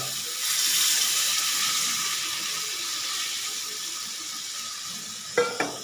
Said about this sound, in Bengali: এতে আমি দিয়ে দেবো পরিমাণ মতন জল